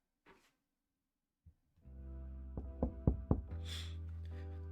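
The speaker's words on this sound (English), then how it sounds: "I knocked on the door to the games room" A door in a video game is knocked three times in quick, evenly spaced raps, sharp and close over a steady droning musical tone after a few faint isolated taps.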